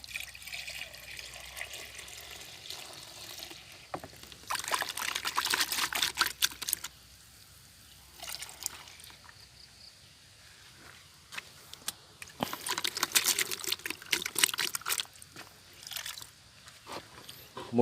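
Water is poured and stirred with magnesium fertilizer for chili plants, giving two loud bursts of splashing and swirling separated by quieter handling noise, with no talk.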